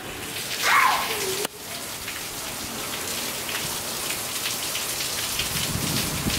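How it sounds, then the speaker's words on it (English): Heavy rain pours down steadily outside, a dense, loud hiss of drops hitting surfaces. A brief voice and a sharp knock come near the start, and after that the downpour continues unbroken. "it is raining so hard right now."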